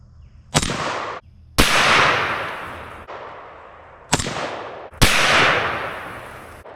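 Four loud rifle shots from a 1944 Underwood M1 carbine in .30 carbine, fired at a pumpkin outdoors: sharp cracks about a second apart, each trailing into a long rolling echo, with no talking.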